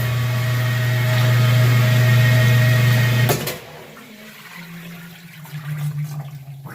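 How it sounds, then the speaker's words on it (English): Water churns and sloshes loudly in a washing machine drum that is not draining, with a steady low hum for a few seconds, then cuts off, leaving faint dripping and gurgling. "You can see that the water is just sloshing around."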